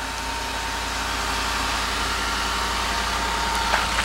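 A 2013 Ford F-150 pickup's 5.0 V8 engine idles close by with a deep, steady rumble and a low throbbing pulse, outdoors on ice.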